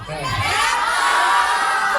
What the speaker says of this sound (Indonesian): Luar biasa, tepuk tangan dong ya.